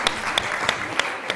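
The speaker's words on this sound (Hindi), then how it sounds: "परी के लिए तालियां बहुत सारी" On a Ramzan television studio show, a few people clap for Pari in five sharp, evenly spaced claps over a soft room background.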